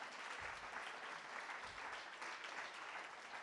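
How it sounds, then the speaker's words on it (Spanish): Church congregation applauding steadily throughout, a dense, even wash of clapping with no pauses. "Dele un aplauso al Señor"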